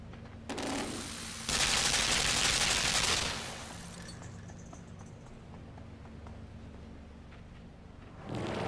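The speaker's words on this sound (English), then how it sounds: "Suddenly, there's just machine guns." Machine gun fire in the video game Limbo, a loud rattling burst lasting about two seconds that then drops away to a quiet low hum, followed by a fainter burst at the very end.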